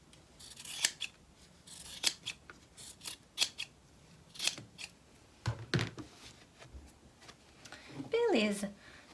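Scissors snip through fabric while trimming a ballet bodice in a sewing workshop, a run of short, crisp cuts spaced irregularly and close to the microphone, with a person talking over parts of it.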